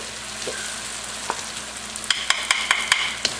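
Garlic added to a hot pan of softened, browned onions for a chicken jalfrezi, giving a steady sizzling fry with several sharp stirring clinks and scrapes near the end, no talking.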